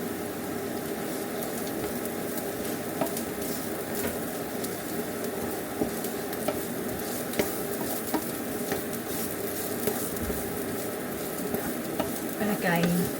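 Chopped celery and garlic fry in a pan for Cajun dirty rice, giving a dense, continuous sizzle with occasional light taps and stirring scrapes throughout.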